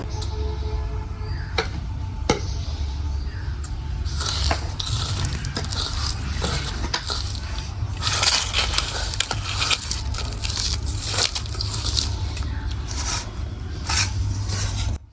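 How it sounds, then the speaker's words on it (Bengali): Chopped chili, salt and ripe olives being mashed by hand give off close, continuous squelching and crushing, scattered with sharp clicks and scrapes. "কেটে রাখা মরিচের কুচি তার সাথে পরিমাণ মতো লবণ দিয়ে হাত দিয়ে মরিচগুলো ডলে নেব"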